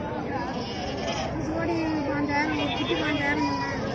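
Goats bleat repeatedly amid a busy livestock market in Udayarpalayam, their calls rising over a steady hubbub of traders and buyers talking and haggling nearby.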